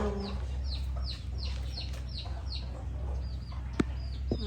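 Chickens and chicks cluck and peep in a run of short, repeated calls, heard fairly close over a low rumble of outdoor background noise.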